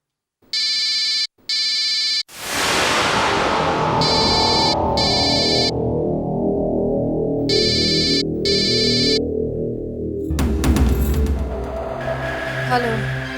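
A phone ringtone plays in two short bursts in a Hindi TV serial scene, then a louder sustained tone of clashing music swells in and continues to the end, with no voices.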